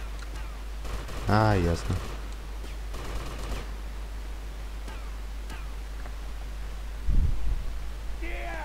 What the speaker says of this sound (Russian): Кто-то стреляет, но я что-то не вижу, кто.